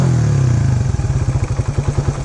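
A motorcycle engine with newly changed carburetor jets revs down and settles into a loud, uneven idle with a chugging rhythm, close by; the idle is mostly stable but dips suddenly at times.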